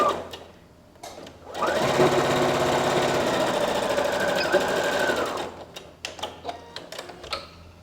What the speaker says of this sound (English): I'm going to start sewing a few centimeters above front and back stitch